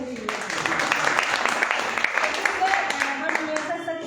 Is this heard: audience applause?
yes